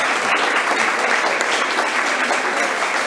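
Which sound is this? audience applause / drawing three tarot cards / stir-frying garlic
audience applause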